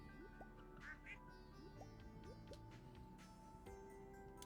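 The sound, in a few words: ducks quacking on farm in video game Stardew Valley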